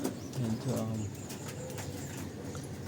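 Young pigeons coo softly in a low, repeated murmur at close range, with faint chirps and background noise and a person talking quietly.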